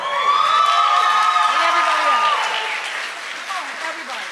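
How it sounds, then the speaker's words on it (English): Audience at a children's camp talent show exhibition in Jacksonville applauds and cheers, a loud continuous burst of clapping with high whoops and shouts over it early, easing slightly toward the end. "you all give them all a round of applause"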